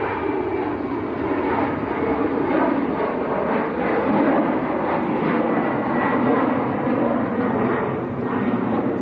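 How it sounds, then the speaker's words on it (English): An Air Portugal Embraer jet at Manchester Airport on its takeoff roll toward rotation, giving a steady, loud, broad engine roar that holds evenly throughout with no talking. "Air Portugal to Lisbon, just about to rotate. An Embraer this morning."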